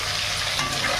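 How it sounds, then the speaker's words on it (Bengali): Fish fries in hot oil in a pan, giving a dense, steady sizzle that is close and moderately loud, with no voices. "এক পিঠ ভাজা হয়েছে আবার আর পিঠ"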